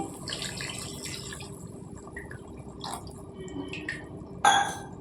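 A glass of water pours and splashes softly into a pot of potato and chana dal curry, with faint trickling throughout and a brief metallic clink toward the end.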